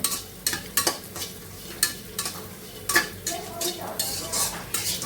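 Bori lentil dumplings frying with vegetables in a pan, heard as a soft sizzle under repeated scraping and clinking of a spoon against the metal pan, with stirring strokes every second or so.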